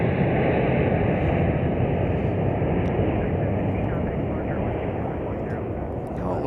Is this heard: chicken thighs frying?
no